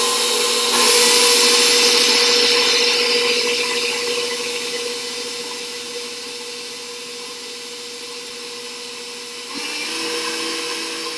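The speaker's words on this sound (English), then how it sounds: "I'm gonna slowly add in my sugar while the mixer is going." An electric stand mixer whirs continuously at medium-low speed, beating egg whites with sugar for French macaron meringue; a steady close motor drone with whisking noise that eases slightly, then rises again near the end.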